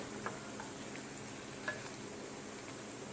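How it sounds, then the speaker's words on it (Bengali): Food fries in a pan, a steady, moderately quiet sizzle with a couple of faint clicks and light stirring taps, no voices. "আমি ভেজে নিই সবগুলো"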